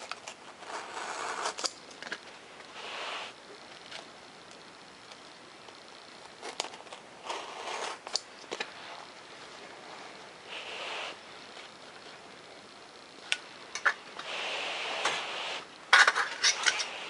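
A razor knife held at a steep angle slices model fuselage pieces on the back of a small throw carpet, giving close, dry scraping strokes in short irregular bursts with quiet gaps between them.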